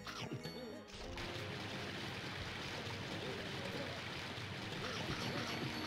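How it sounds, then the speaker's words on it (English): A thunderous waterfall roars in Scooby-Doo! Night of 100 Frights, a steady, loud wash of rushing water that swells in after a brief quieter moment, with faint voices underneath. "That is the loudest fucking waterfall I've ever heard in my goddamn life"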